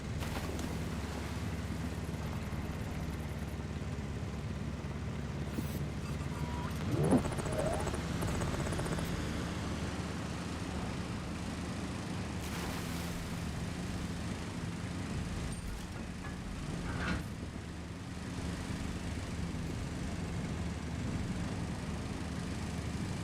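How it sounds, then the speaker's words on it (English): A vehicle engine in a video game, a steady low droning hum with a whirring tone that holds level throughout, with a few brief swells and thumps rising over it. "this engine sound actually does need to change"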